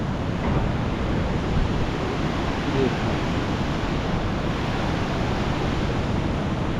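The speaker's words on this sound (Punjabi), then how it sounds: "ਨਦੀ ਚੱਲਦੀ ਹੈ ਬਈ ਦੇਖ ਸਕਦੇ ਹੋ" A mountain river near Govind Dham on the Hemkund Sahib route rushes past close by, a loud, steady roar of water with wind buffeting throughout.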